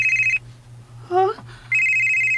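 A cellphone rings with a steady, loud electronic tone that stops briefly while a voice speaks, then resumes and continues to the end.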